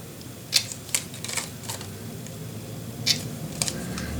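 Paper pieces for a Stamperia Music Romance mini album are cut with scissors, giving a few sharp close snips and clicks spaced irregularly over quiet room tone, with no talking.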